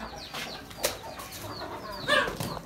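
Brief rustle of a young pigeon's wings flapping and soft pigeon calls nearby, with a short louder burst of flapping near the end.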